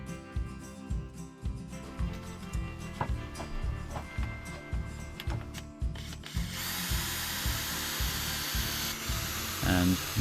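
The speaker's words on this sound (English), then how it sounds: "So I'm just sawing the end off that." A hand saw cuts through the end of a wooden board in a steady back-and-forth rhythm, then gives way to a continuous rough grinding rasp.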